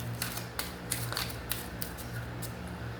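A deck of tarot cards is shuffled up close, giving a series of quiet crisp riffling clicks and snaps at irregular intervals over a soft background hum.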